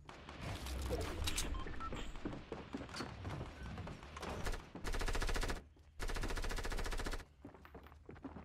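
Rapid submachine gun fire in a shooter video game, long sustained bursts that fill the mix loudly and close, broken by a short pause before another long burst, with no talk over it.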